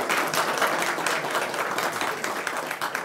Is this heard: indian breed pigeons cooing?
no